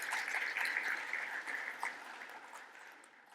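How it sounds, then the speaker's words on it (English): Applause from a conference audience, a steady wash of many hands clapping at moderate distance that fades gradually toward the end, with no talking. "So big round of applause for them as well."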